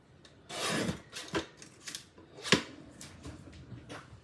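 Scissors trim a few small cuts off the top of a plant branch, a handful of short, sharp snips spaced irregularly with faint rustling between them, close and fairly quiet.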